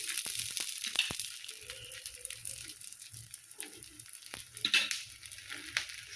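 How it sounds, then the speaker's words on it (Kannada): Paddu rice-batter dumplings frying in a little oil in a pan: a soft, steady sizzle with scattered crackles and pops, close and fairly quiet, with no talk over it. "ಮಸ್ತ್ ಮ್ಯಾಗ ಸ್ವಲ್ಪ ಎಣ್ಣೆ ಹಾಕ್ಕೊಂಡು ಬೇಯಿಸ್ಕೊತೀನಿ ನೋಡ್ರಿ"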